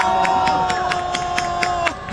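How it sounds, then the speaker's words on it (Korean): A crowd at a political rally outside the Constitutional Court in Seoul claps and cheers in a dense, continuous wash of applause with sharp rhythmic claps, a sustained tone ringing over it near the end. "여러분 두 분을 뜨거운 박수로 환영해 주십시오"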